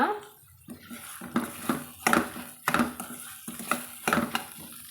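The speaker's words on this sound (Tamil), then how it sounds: "நல்லா பச்சை வாசம் போக நம்ம வதக்கி விட்டுக்கலாங்க" Brinjal curry masala sautéing in a pan, with repeated stirring scrapes and soft clinks of a spoon against the pan over a low sizzle, close and moderately loud.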